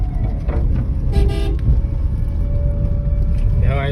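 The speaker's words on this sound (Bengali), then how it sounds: "ওখানে একটা হর্ন দেবো" A car horn toots briefly over a loud, steady rumble of road traffic, heard nearby.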